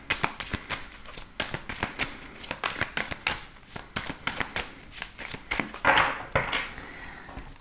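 Tarot cards being shuffled by hand, a close, crisp run of rapid riffling and slapping bursts repeating in quick succession, with no talk.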